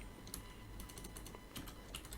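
Computer keyboard typing in a quiet room, a quick run of soft, irregular clicks of key presses with brief pauses, close and fairly quiet, no voices.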